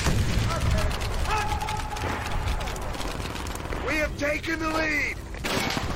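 Thompson submachine gun bursts in Call of Duty: World at War multiplayer, rapid rattling fire mixed with other game effects, loud and close, with someone talking over it.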